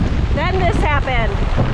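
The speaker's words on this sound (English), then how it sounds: "A little squall." Squall wind gusting across a sailboat heading upwind, a loud steady rush of wind noise on the microphone with water sounds, a voice speaking briefly over it.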